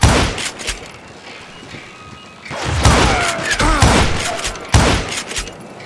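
Gunfire in Call of Juarez Gunslinger, loud rapid shots in bursts with thumping impacts, a quieter stretch, then more heavy volleys and ricochet-like whines.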